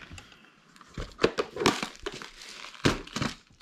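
Paper envelopes are handled and shuffled up close, with a string of crinkling, rustling bursts of uneven rhythm and a couple of louder crackles, and no voices.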